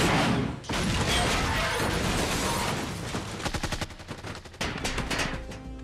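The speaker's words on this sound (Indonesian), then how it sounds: "inilah yang dilakukan oleh Jim dengan sniper miliknya sendiri" Sniper rifle gunfire in a film scene: sharp shots and rapid bursts of gunfire over dense, loud background action, with a brief pause early on and a clustered run of cracks toward the end.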